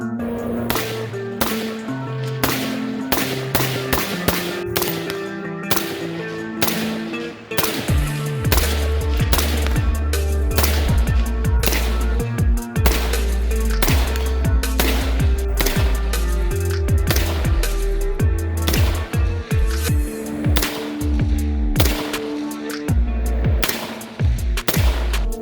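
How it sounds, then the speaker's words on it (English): Rifle fitted with an EvolvR combat stock firing repeated sharp cracks, some in quick bursts, over a steady low droning background throughout. "right now let's have some fun shooting with it."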